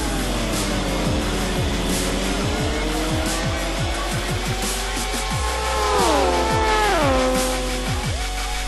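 Race cars at Daytona in a 2.4-hour race roar past, several engines rising and falling as they pass, with a sweeping engine whine and bursts of tire squeal, loud and steady throughout.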